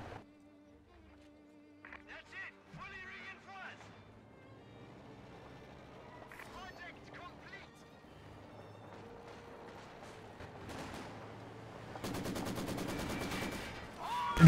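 Maxim machine gun fire in a Company of Heroes 2 battle, sounding as a sustained loud burst of rapid automatic shots near the end, after quieter mixed battle noise and game sounds.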